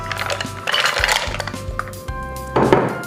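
Shrimp and mussels tipped into a pot for cioppino, with bright clinks and clattering shell knocks against the metal close by, over a low steady hum.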